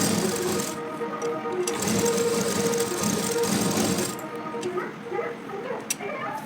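An electric sewing machine stitching the front part of a princess-cut blouse, running in a fast, even mechanical chatter close by for several seconds before slowing to a few sparse ticks.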